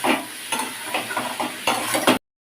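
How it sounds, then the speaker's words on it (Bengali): Spices sauté with salt and sugar in a pan for a papaya and chana dal dish, a bright sizzle broken by repeated rhythmic stirring scrapes, close and clear, ending abruptly in silence. "মশলাও কষানো হয়ে গেছে আর লবণ আর চিনি দিয়েও কষানো আছে"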